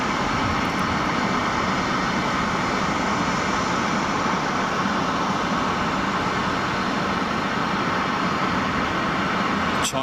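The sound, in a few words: Boeing 747 aircraft departing from airport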